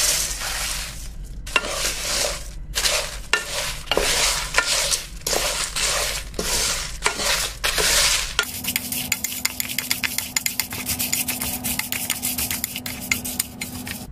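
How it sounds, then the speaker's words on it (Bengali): A utensil scrapes and stirs whole spices in a kadai-like pot, a rhythmic series of close, gritty rubbing strokes that continue as a faster, steadier scraping in the second half. "আমি নাড়ানোর সুবিধার্থে একটি জাস্ট কড়াইয়ের মতো একটা পট নিয়ে নিয়েছি।"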